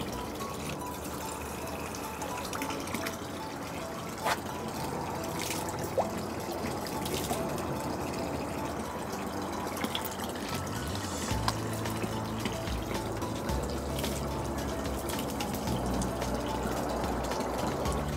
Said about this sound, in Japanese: いい絶景に恵まれるよう手を洗い